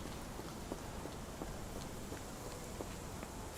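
Steady rain falling in a video game, a constant soft hiss of drops with faint scattered patters, fairly quiet and unbroken, with no talking.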